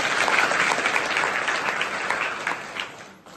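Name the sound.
audience applause for anganwadi workers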